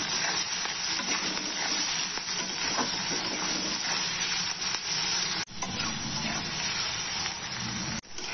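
Onions fry with salt in a pan, giving a loud, dense, continuous sizzle with faint stirring movement and a couple of abrupt brief dropouts near the end.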